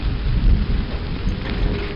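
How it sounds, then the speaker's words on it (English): Rain and thunder in the Quake mod Malice, a dense, continuous hiss of rainfall over a deep rolling rumble, loud and steady throughout. "from this atmospheric rain that's coming through these gaps"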